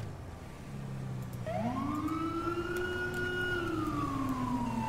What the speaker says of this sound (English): let's start throwing on our sirens as well.